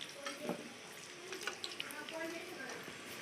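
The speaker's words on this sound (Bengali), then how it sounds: "জলের দরকার ছিল একটু তাই জল দিচ্ছে তোমাদের দাদা ভাই" Water is poured into a pot of parboiled biryani rice, giving a short, soft splashing trickle with faint voices in the background.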